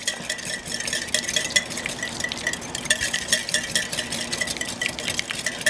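A wire whisk beats against a bowl as olive oil is streamed into Caesar dressing, giving a rapid, continuous metallic ticking and swishing at close range with no talk.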